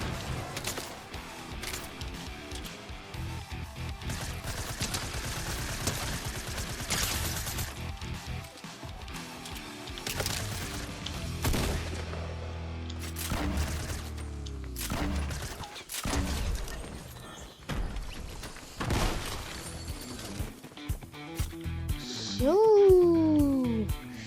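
Gunfire and explosions in a Fortnite final battle, with repeated sharp bursts of shots and heavy booming blasts scattered through a busy, noisy game soundscape.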